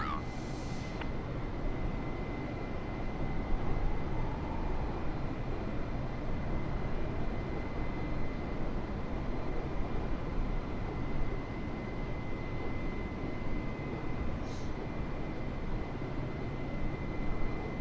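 Airplane climbing after takeoff in Microsoft Flight Simulator, a steady broadband engine roar that stays loud and constant throughout, with a faint tone held underneath.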